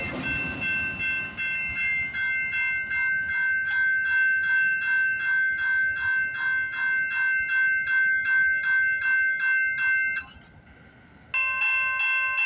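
A CP train passes on the line, with a sustained ringing, bell-like tone and rhythmic clacking carrying loudly for about ten seconds before a brief drop and return.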